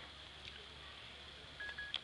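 A phone gives a short alert beep when its memory is full: a couple of quick, thin electronic beeps near the end. They are faint against a quiet room, with no talking.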